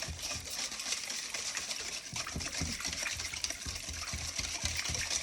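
Molasses gingerbread batter thinned with hot water being stirred in a bowl, a steady wet sloshing and scraping with irregular clinks of the utensil, close and continuous with no talking.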